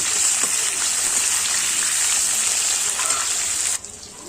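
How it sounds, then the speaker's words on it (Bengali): Whole pointed gourds (potol) fry in hot oil with whole cumin, dried red chilli and bay leaf, giving a steady loud hiss and sputter that runs on evenly and then drops away abruptly near the end. "ওর মধ্যে দিচ্ছি পটল, পটল গোটা একটু আমি ভেজে নিচ্ছি"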